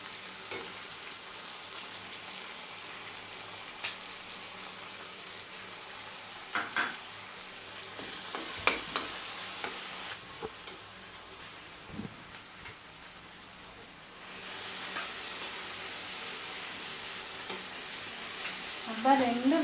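Dried red chillies and turmeric frying in oil in a pan, a soft steady sizzle with occasional stirring clinks, fairly quiet, with a brief voice at one point.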